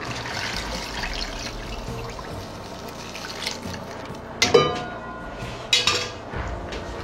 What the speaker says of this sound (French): Alors là maintenant je vais mouiller avec du fond de veau.